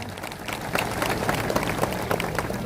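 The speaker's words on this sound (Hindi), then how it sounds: "इनके लिए जोरदार तालियां बजा रहे" A crowd at a district-level Gayta Thakur Joharni gathering applauds musicians, a steady, fairly loud spread of many hands clapping with scattered sharper claps.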